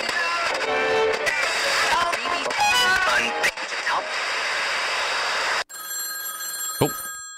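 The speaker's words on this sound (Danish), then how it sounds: "Er det telefonen, der ringer?" A telephone bell rings in a home. Busy, louder background sound cuts off abruptly, leaving the steady, trilling ring clear and close.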